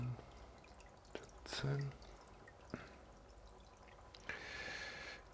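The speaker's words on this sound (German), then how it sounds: "17 Tropfen habe ich jetzt hier drin." Drops of water-test reagent fall one by one into an aquarium water sample during hardness testing for a shrimp tank. The drips are faint and sparse, and a man counts aloud over them.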